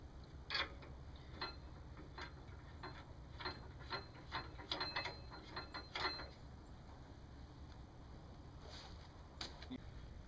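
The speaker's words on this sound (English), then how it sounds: "And then insert both of the safety bolts. Again, one on each side." Metallic clicks and ratcheting taps as safety bolts are inserted and tightened on a Moto-Mule motorcycle hitch carrier, a series of close, fairly quiet mechanical ticks with no talking.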